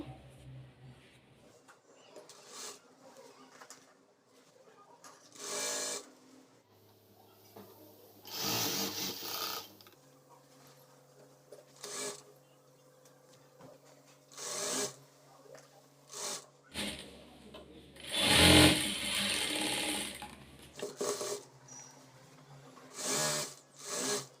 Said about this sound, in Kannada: ಈಗ ಸೇಮ್ ಅದೇ ರೀತಿ ಇನ್ನೊಂದು ಸ್ಲೀವ್ನ ಸ್ಟಿಚ್ ಮಾಡ್ಕೋಬೇಕು